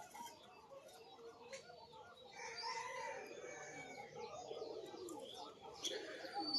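Rajshahi high-flying pigeons coo softly nearby among other faint bird clucks and rustling, fairly quiet throughout.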